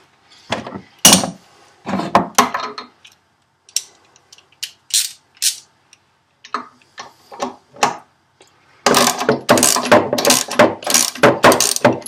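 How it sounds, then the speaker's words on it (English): Screws being unbolted while a vise is mounted on a carpenter's workbench, heard as close, irregular ratcheting clicks and metallic ticks that end in a longer, denser rattle of turning. "at least it's just unbolting some screws"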